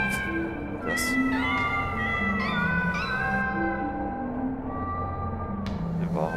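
Cat meowing in the video game Tacoma, several repeated meows in a row with a tonal drone and low hum underneath, steady and fairly close throughout.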